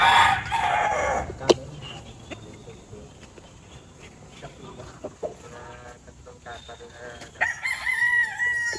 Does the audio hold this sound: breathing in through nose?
no